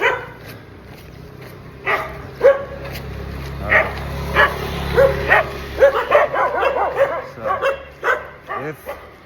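Four dogs bark and yip at dawn in Canggu, with repeated sharp barks and whimpers close by, while someone talks over them.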